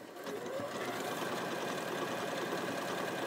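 A sewing machine run from its start-stop button instead of the foot pedal stitches steadily at a constant rapid pace, close and continuous with no talk.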